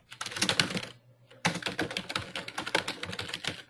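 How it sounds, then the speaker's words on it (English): Typing on a computer keyboard, a quick run of close, crisp key clicks with a short pause near one second before the tapping resumes steadily. "Let me type interact with stakeholders."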